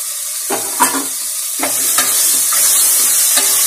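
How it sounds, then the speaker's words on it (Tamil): Ginger and garlic sauté in hot oil in a pan for mutton kurma. A loud, close sizzle is punctuated by several sharp spoon-stirring strokes and scrapes. "நல்லா வதக்கணும்"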